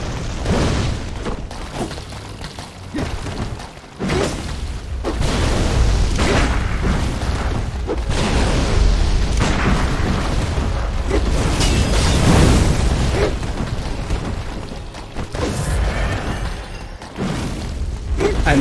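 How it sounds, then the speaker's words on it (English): Homing fireballs from a Shadow of Yharnam enemy gank squad exploding in Bloodborne, a loud, continuous barrage of booming blasts and bursts with brief dips between impacts. "One shoots homing fireballs"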